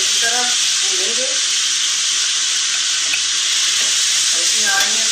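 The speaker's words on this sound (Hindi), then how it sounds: "अब इसको अच्छी तरह भूनेंगे।" Beef with soy sauce fries loudly in a pan, a dense continuous sizzle close to the listener, with a voice briefly heard at the start and again at the end.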